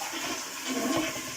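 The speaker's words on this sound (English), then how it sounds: "when I flush it, it starts dripping like gusher out the bottom of it" A leaking toilet flushes with a steady rushing of water that holds at an even, moderate level throughout, with no voices.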